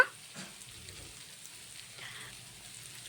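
Cut beans and carrot fry in a pan with a soft, steady sizzle and crackle, faint and continuous, with a few light stirring knocks.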